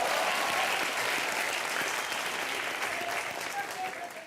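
Studio audience applause at a Hindi comedy show, a dense sustained wash of clapping that stays loud throughout and tapers slightly at the end.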